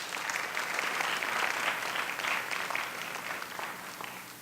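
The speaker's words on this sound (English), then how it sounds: "Let's give them a round of applause." An audience at a philanthropy talk applauds to welcome speakers Tom Turney and Joel Fleischman, with sustained even clapping that gradually fades over several seconds.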